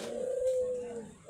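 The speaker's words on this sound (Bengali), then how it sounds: "কবুতর আছে এখানে" A pigeon coos once, a soft, sustained low call lasting about a second at close range, with quiet outdoor ambience behind it.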